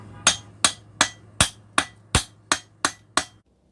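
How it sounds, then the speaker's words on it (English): Hammer striking a ball joint into place, nine sharp metallic blows at an even, steady rhythm, close and clear, with no talk. "Grab our trusty little hammer here."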